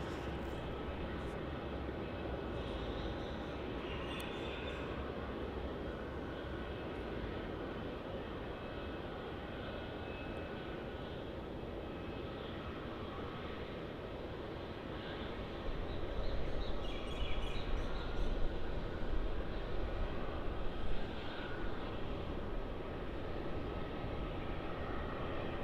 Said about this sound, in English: we'll get a nice look at this Jetstar 787-8 arriving from Singapore Changi, flight JQ8